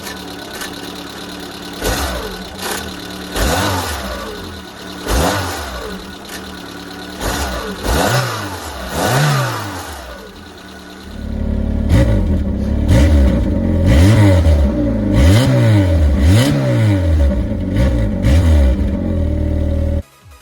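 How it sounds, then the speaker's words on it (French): A 1997 Peugeot 205 engine runs steadily, then revs up in repeated bursts, each climbing and falling back. The last half is louder and closer, with a series of sharp revs over a constant idle. "On va écouter un petit peu ce qu'il donne."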